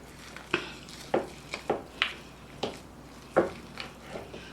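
Seafood stuffing being mixed for stuffed onion rings: a run of soft, irregular scrapes and taps of a utensil against a bowl, eight or so separate strokes, close and fairly quiet with no talking.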